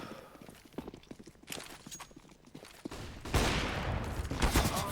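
AK rifle fire in a competitive Counter-Strike match: rapid, close bursts of shots come in uneven clusters, growing denser and louder toward the end over a steady game din.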